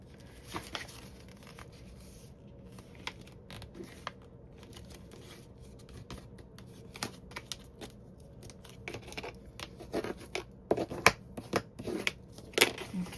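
Dry crinkling and crisp creasing of a book page as it is folded again, a series of soft scattered rustles that grow louder and sharper toward the end, close and quiet with no talking.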